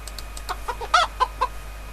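Video game chicken clucking close and clear, a short run of about six quick rising clucks in an uneven patter with no talk over it.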